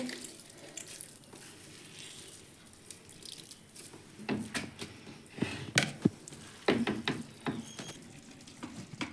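Chopped vegetables for a momo filling are squeezed by hand to press the water out, giving wet squelches and splashy drips in irregular bursts that grow busier and closer toward the end, with no talking.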